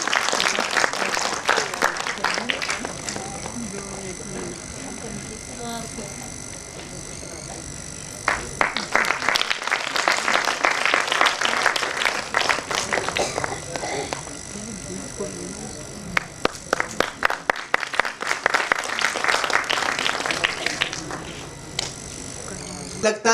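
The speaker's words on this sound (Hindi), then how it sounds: "जोरदार तालियां बजाएं" Audience clapping at a public speech event in Dehradun, rising in bursts of dense applause between quieter stretches, with some crowd noise and distant voices in the hall.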